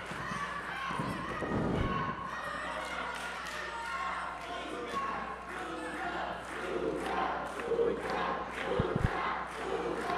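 Crowd at a Samoan rugby match in the Samoan Legacy Cup quarter finals, a noisy mix of cheers, shouts and thuds spread through the clip, with commentary voices talking over it.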